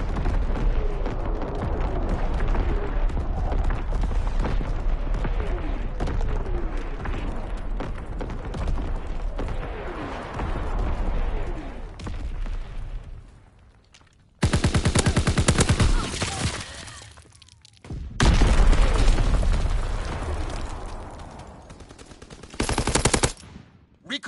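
Artillery barrage in a video game: a long dense run of booming, rattling rapid fire for about fourteen seconds, followed by abrupt loud bursts broken by sudden silent gaps.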